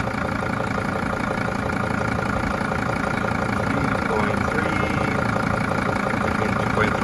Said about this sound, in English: That's what it is about at idle without blipping the throttle.